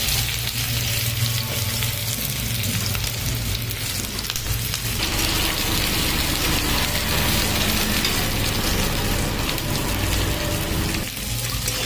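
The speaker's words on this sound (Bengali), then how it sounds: "পেঁয়াজগুলোকে লাল লাল করে ভেজে নেব" Chopped onions fry in hot oil in a kadai for a chicken curry, giving a loud, dense, continuous sizzle that stays close and steady throughout.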